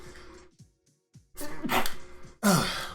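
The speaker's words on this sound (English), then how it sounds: "what a time for me to have to sneeze" A person sneezes twice close to the microphone, a sharp burst followed by a second louder one after a brief pause, with faint breathing before.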